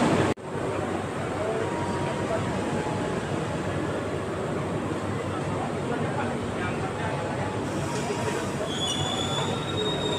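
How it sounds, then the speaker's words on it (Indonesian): Purwokerto–Yogyakarta passenger train pulling out of Purwokerto station, wheels squealing steadily against the rails over a continuous rumble of moving railcars, with high-pitched screeches growing near the end. "sekarang perjalanan kereta api Purwokerto Jogjakarta sekarang sudah berangkat dari stasiun Purwokerto"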